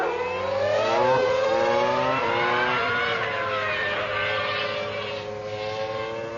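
A Formula One-style racing car revs near 12,000 rpm and launches from a standing start with a little wheel spin. Its engine screams loudly and steadily throughout, the pitch rising and falling with the throttle.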